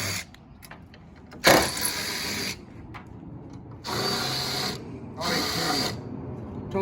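A size 2 Phillips driver turns the screws holding a Beckman basketball net hoop, giving three short, close whirring bursts separated by quieter pauses.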